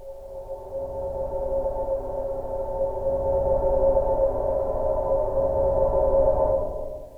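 Sampler preset called Chill Outs playing a complex multisample: a sustained, warm pad-like tone with a soft low rumble, swelling gently and holding steady for several seconds before fading, with no speech.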